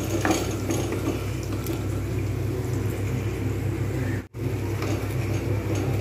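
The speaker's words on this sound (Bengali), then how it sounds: "মশলাটাকে আমি কিন্তু খুব ভালো করে কষিয়ে নিচ্ছি।" Spice paste being stirred and fried in a pan for a white potato curry, a continuous low sizzle and bubbling with faint scraping, broken by one brief silence midway.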